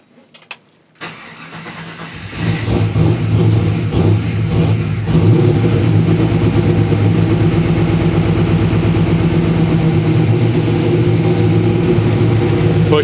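An LS V8 engine with a freshly swapped camshaft cranks and catches in a home garage, then settles into a loud, steady, lumpy run with slight throttle changes, close up and with no talking.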